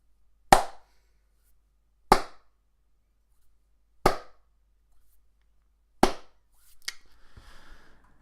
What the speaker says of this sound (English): That deserves a slow clap.